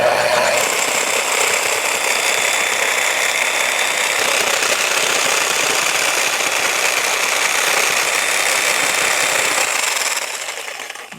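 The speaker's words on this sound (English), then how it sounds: "Cutting through that aluminum like butter." A power tool cuts through an aluminum bicycle bottom bracket with a loud, continuous, rough grinding roar that holds steady before fading off at the end.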